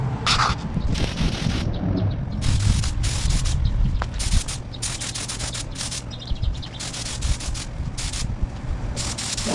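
A broad hissing spray on a 1966 Plymouth Belvedere runs almost continuously, cutting out in brief gaps between bursts, close and fairly loud.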